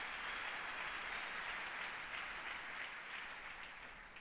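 A church congregation applauds together after a sermon passage, a steady, dense wash of clapping that holds evenly and then slowly tapers near the end, with no voices over it.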